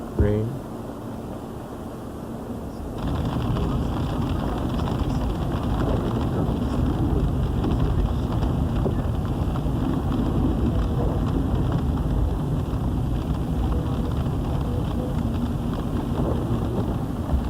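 Rain and wind sweep over tidal marshes on a foggy day, a steady broadband hiss and patter that swells after a few seconds and then holds constant and fairly loud throughout.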